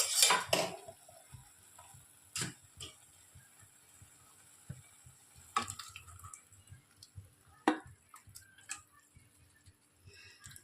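Chopped pav bhaji vegetables tipped into a kadhai, with sharp metallic clanks and scrapes of a spoon against the pan, spaced out over quiet gaps.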